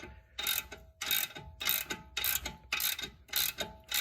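A socket wrench ratchets while tightening a control arm bolt on a BMW E46, six or seven evenly spaced bursts of close, crisp clicking with short pauses between strokes.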